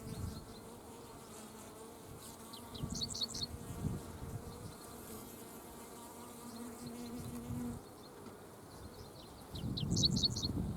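Honeybees buzz steadily around an open, healthy hive, a soft, even hum at close range. Faint high chirps, likely birds, sound now and then in the background.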